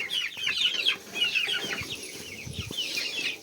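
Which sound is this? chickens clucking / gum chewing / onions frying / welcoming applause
chickens clucking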